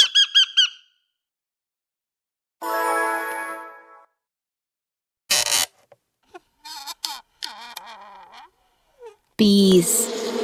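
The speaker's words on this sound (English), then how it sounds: "Parrot." A pet parrot gives scattered loud squawks and squeaky chatter in separate bursts with quiet gaps between them, close and sharp.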